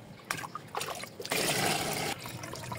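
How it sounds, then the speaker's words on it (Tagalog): Water is poured into a container holding fish, short trickles and splashes at first, then a steady louder pour for about a second before easing off, close and fairly quiet. "Tapos dagdagan natin ng tubig."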